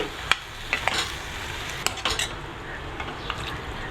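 A spoon stirs and mixes banana puddi masala in a pan over a constant low sizzle, with several sharp clinks and scrapes of the utensil against the metal spread irregularly throughout.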